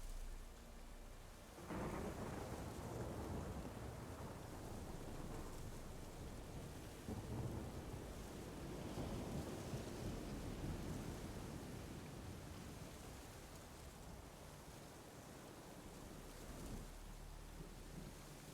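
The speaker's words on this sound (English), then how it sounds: "A storm, damn it." Thunderstorm in The Witcher 3, steady heavy rain hissing throughout with a sharp thunder crack near the start and rolling rumbles later, quiet and without voices.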